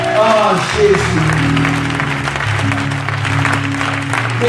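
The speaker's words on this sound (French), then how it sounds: "Acclame Jésus." A church congregation claps and cheers during a worship service, the applause mixed under loud voices and calls.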